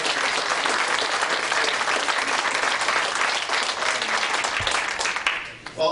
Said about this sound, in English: So can we just give a round of applause to SPARC?